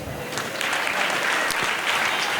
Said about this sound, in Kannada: ಫೋಟೋಗ್ರಾಫರ್ ಅವ್ರಿಗೊಂದು ಚಪ್ಪಾಳೆ ಕೊಡಿ